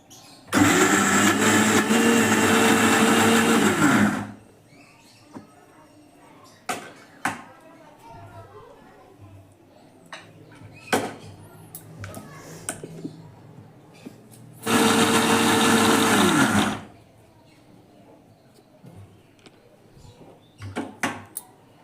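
Masoor lentils are ground into a thick batter with little water in an electric grinder, heard as two loud, steady motor bursts with clattering and handling noises in the pause between them.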